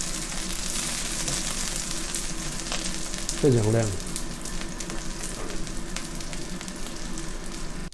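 Vegetarian seaweed bean curd rolls pan-frying in oil, a steady close sizzle throughout with a brief voice partway through.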